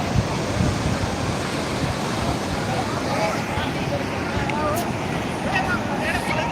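Sea waves on Tarkarli beach in Konkan make a steady, dense roar of surf on an evening shore, with wind buffeting the microphone and faint crowd babble mixed in.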